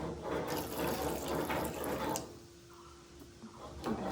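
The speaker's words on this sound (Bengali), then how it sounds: "এখন 1 বাটি জল দিলাম, আর 1/2 বাটি জল দিই।" Water poured from bowls into a cooking pot with turmeric powder, a steady splashing pour that runs loud for about two seconds, then drops to a quieter trickle and settle.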